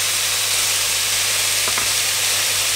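Pork and broccoli stir-fry in a wok with oyster sauce, giving a loud, continuous sizzle and hiss close by, with a couple of brief clinks partway through.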